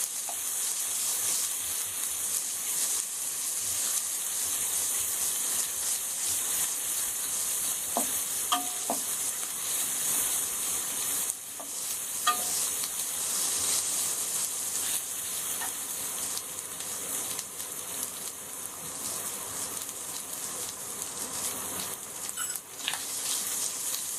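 Garlic frying in a pan, a steady, loud, bright sizzle with crackling oil that runs continuously, with occasional faint stirring scrapes.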